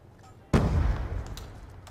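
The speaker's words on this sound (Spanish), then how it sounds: "Vamos a lanzar otra granada al azar." A grenade explodes in the Call of Duty Black Ops 2 video game as one sudden, heavy boom that rolls off into a rumbling tail lasting over a second, loud and close, with faint game sounds before and after.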